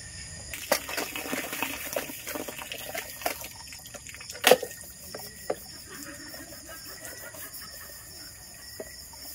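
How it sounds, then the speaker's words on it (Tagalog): Shower water runs steadily at a peaceful campsite in Cavite, a continuous hiss carrying a few sharp clicks and knocks, with no voices. "maliligo, mag-shower na rin yung love ko"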